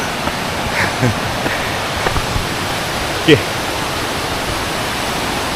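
A tall waterfall on a Malaysian hiking trail roars as a loud, constant rush of water that fills the whole clip, with a brief spoken word and a few small knocks underneath.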